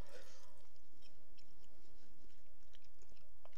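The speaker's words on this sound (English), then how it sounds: "I'm hoping my chewing noises and stuff aren't going to be real gross." Someone chews low-carb pizza during a mukbang, soft close mouth sounds of chewing and small crunches ticking quietly against a hushed background.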